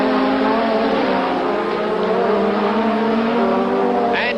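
Formula 1 cars from the 1984 British Grand Prix roar with a loud, steady high-pitched engine whine that shifts in pitch as they pass, and a brief higher burst near the end.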